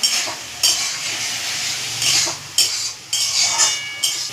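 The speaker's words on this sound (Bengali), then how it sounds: "মশলাটা আমি হালকা করে কষিয়ে নিচ্ছি।" Spices for a banana flower and prawn curry are fried and stirred in a pan, giving a steady close sizzle broken by repeated sharp spatula scrapes and clanks against the metal, with no talk.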